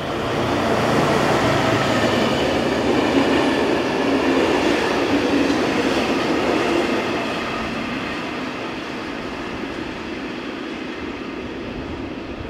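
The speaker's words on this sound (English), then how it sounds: "1277805 heads this short rake of covered VTG soda hoppers north." Freight locomotive 1277805 hauls a short rake of covered VTG soda hopper wagons past Bissingheim near Duisburg-Entenfang, a loud steady rumble of rolling wheels and wagons close by that slowly fades as the train moves away.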